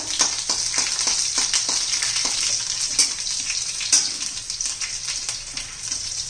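Garlic dropped into hot oil with cumin and mustard seeds sizzles steadily in a pan, with a bright crackling frying hiss and repeated soft stirring taps throughout.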